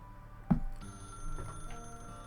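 A phone rings in the video game Arknights, a soft electronic bell tone sounding over quiet game music, with a brief thump near the start and the ring repeating faintly in the background.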